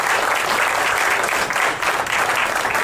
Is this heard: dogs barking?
no